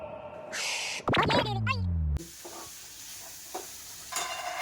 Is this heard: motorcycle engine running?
no